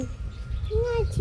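A house sparrow chirps in a home garden, a single short tonal chirp heard faintly against steady low background noise.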